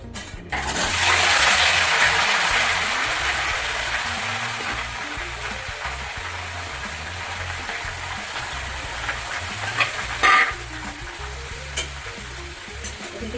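Ingredients fry in hot oil in a home kitchen during simple Odia cooking. A loud, steady sizzle is strongest at first and then eases, with a few sharp clinks and stirring knocks toward the end.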